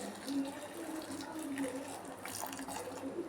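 Water poured over a dozen dried red chillies for chilli sauce, a soft, faint trickling splash lasting a few seconds, close by and quiet.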